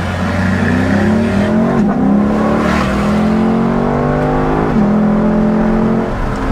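Lexus LC500 engine revving hard while accelerating through the gears, a loud, close, continuous roar rising in pitch with shifts where the note drops and climbs again, no talk over it.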